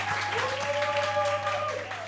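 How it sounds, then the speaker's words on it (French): Applause from a studio audience at a televised anniversary celebration, steady clapping with a sustained musical tone ringing beneath it, moderately loud and brief. "ça s'applaudit"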